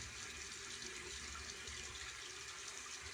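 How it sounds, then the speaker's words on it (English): Warm water runs steadily at a bathroom sink while a face is rinsed, a continuous faint splashing hiss with no talking. "I do 2 rinses, 2 warm water rinses."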